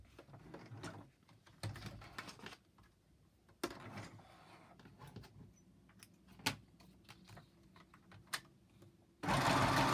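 A sewing machine stitches across a paper junk journal tag in several short mechanical bursts, with quiet handling noises between runs and a loud, dense burst of stitching at the end.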